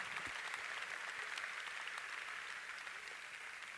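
A church congregation in Londrina gives sustained, even applause during a service, sounding faint and distant throughout.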